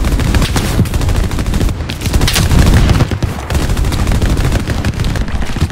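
Dense, loud gunfire in the World War II shooter Hell Let Loose, with overlapping rifle and machine-gun bursts forming a continuous barrage that barely lets up across the whole stretch.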